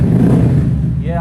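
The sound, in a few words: single-cylinder motorcycle engine with aftermarket exhaust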